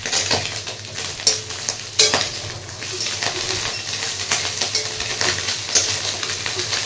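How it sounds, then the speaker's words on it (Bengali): Fish fries in hot oil with a constant crackling sizzle, broken by several sharp metallic clinks and scrapes of a spatula against the pan, heard up close. "এই মাছটা ভেজে রেখে দিচ্ছি"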